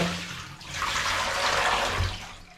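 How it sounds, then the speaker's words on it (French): A basin of cold water used to soak wool is emptied, giving a steady rushing pour and splash that swells and holds for about two seconds, close and fairly loud, with no talking. "Alors maintenant ça a bien trempé, c'est parti, on va vider la bassine."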